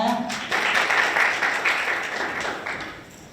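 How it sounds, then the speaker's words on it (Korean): Audience applause at a university innovation forum student session in Korea, a steady wash of many hands clapping that swells after a brief voice and holds fairly loud before tapering off. "큰 박수 부탁드리겠습니다"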